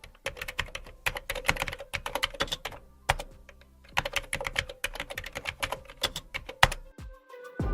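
Quick bursts of typing on a computer keyboard, crisp clicking keystrokes in rapid runs separated by short pauses, close and fairly quiet with no talking.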